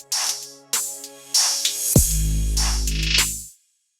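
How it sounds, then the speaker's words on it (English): Noisy whooshing swells from a reversed crash cymbal riser build and cut off sharply, layered over a deep booming bass hit in an electronic beat, ending abruptly into silence. "And also adding a riser effect."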